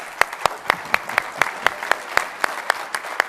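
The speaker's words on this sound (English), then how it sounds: "Let's give this person a round of applause." An audience at an association meeting and exhibition claps for a volunteer. Close, crisp claps land in a quick, uneven rhythm over a lighter bed of applause for about three seconds.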